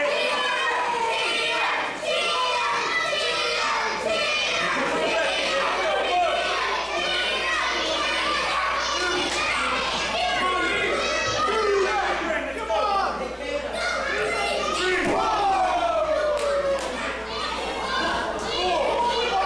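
A wrestling event crowd fills the room with dense, continuous chatter, many children's voices among it, lively and close throughout.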